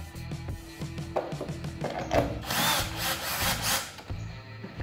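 An electric screwdriver whirs in short bursts, driving screws into a JBL Selenium D405 compression driver during a repair kit installation, with brief bursts of whine and rising buzz close by.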